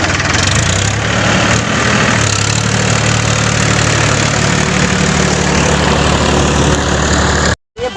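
A tractor engine idles steadily in a farm field, a loud, close, continuous low rumble with a faint knocking, cutting off abruptly near the end.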